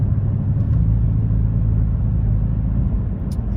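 2021 Dodge Challenger R/T heard from inside on a highway, a steady low engine and road rumble that stays constant and fairly loud without a clear surge, no talk over it.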